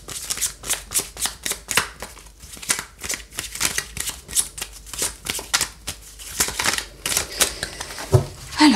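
Tarot cards being shuffled for a reading, a steady run of rapid riffling flutters and soft slaps, close and fairly loud, continuing without pause.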